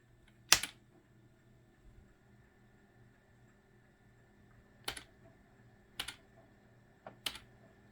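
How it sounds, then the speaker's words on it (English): Relays click inside an HP ProDesk 600 G1 SFF desktop computer: a few sharp, isolated clicks spaced seconds apart, one early and three close together near the end, over a quiet low hum. "I hear some relays clicking up in there,"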